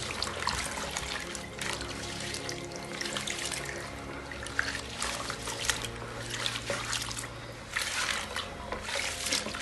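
Cold water pours and splashes steadily into a bath, a continuous close trickling rush with small surges, alone without talk.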